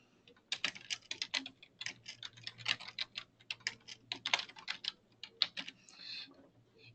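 Rapid clicking keystrokes on a computer keyboard as a fee template name is entered, a close, dense run of irregular taps over several seconds with no talking.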